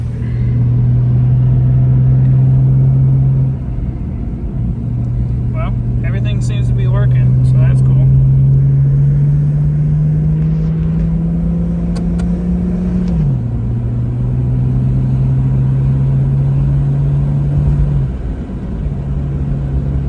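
Steady engine drone from a Jeep Cherokee XJ driving around the block after a new transfer case install, heard from inside, with gear changes shifting the pitch and someone talking over it.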